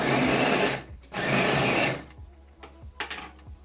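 A mixer grinder blends momo filling in two loud, high-pitched whirring bursts of about a second each, followed by quieter clatter and knocks of the jar.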